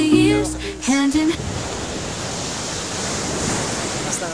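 Ocean waves wash onto a white sand beach in a steady, broad hiss of surf. A brief voice is heard at the start, then the water continues alone.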